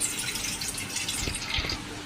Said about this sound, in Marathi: त्यासाठी आपण हे दुधातलं पाणी आहे ना ते सगळं असं निथळून घ्यायचं।